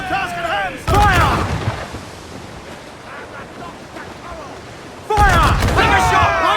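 Heavy ship cannons boom in two loud, close bursts during a naval battle in Assassin's Creed IV Black Flag, with ocean surf and wind rushing between the volleys.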